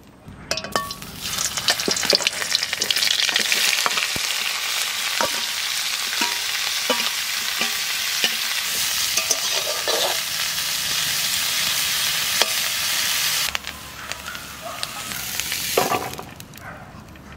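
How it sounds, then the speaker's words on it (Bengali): Parboiled cauliflower fries in hot oil in a wok, a loud dense sizzle that runs almost without a break, with repeated scrapes and clinks of a spatula stirring the pieces, then easing off near the end. "ফুলকপিটা একটু ভাজা করবো।"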